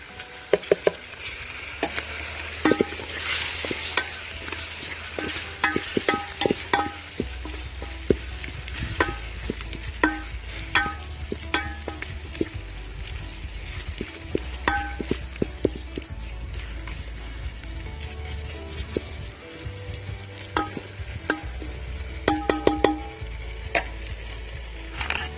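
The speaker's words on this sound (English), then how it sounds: "In goes the tomatoes." Garden-grown soft tomatoes tipped into a hot pan, followed by a steady close sizzle with frequent scraping and clacking as they are stirred and fried.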